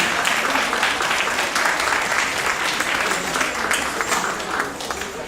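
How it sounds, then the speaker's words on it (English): A community hall audience at a memorial gathering with children's dances applauds in a dense, steady burst of clapping that carries on evenly before tapering slightly at the end. "Great applause to them."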